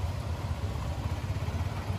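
A motorcycle accelerates on a riding licence exam course, giving a steady, close, low engine drone that holds evenly throughout with no talk.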